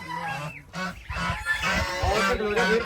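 Loud, harsh honking peacock calls repeat several times over a noisy outdoor background, fairly close.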